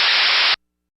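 A processed hi-hat sample built to recreate the LM-1 drum machine sounds as a single bright burst of hiss lasting about half a second and cut off abruptly, followed by silence.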